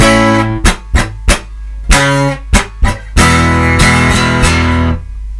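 An acoustic guitar strums chords close up for the pre-chorus of a song: several sharp separate strokes, then a quick continuous down-up pattern that rings out and fades.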